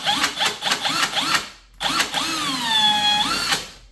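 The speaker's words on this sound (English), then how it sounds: "I want to pre-drill" A power drill pre-drills a rivet hole in the rub rail of a Yamaha Waverunner, its motor whining in short pulses that rise and fall in pitch, then one longer sustained run, close and fairly loud.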